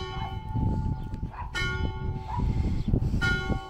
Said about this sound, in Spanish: Las campanas de verdad súper puntuales